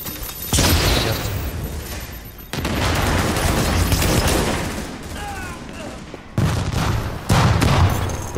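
Rapid bursts of video-game gunfire in a team shooter, loud and close, with dense volleys that pause briefly and resume repeatedly over several seconds.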